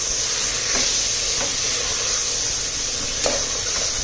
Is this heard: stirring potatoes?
yes